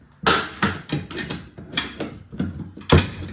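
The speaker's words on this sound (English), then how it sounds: "I'm just gonna put the ratcheting wrench on it" Ratcheting wrench clicking in quick irregular bursts while working on a Dodge Ram upper control arm, sharp metallic ratchet strokes close up with short pauses between pulls.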